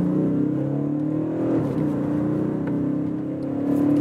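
An Audi S7 with a V6 diesel accelerates hard from 50 to 100 km/h, its engine giving a sustained, rising drone heard from inside the cabin, steady and loud throughout.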